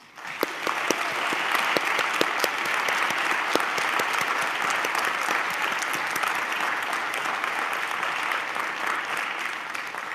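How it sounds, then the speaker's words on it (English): Sustained applause from a graduation commencement audience fills the whole stretch, a dense even patter of many hands clapping with a few sharper claps standing out, steady and moderately loud without speech. "Please take a moment to applaud yourselves, your family and friends"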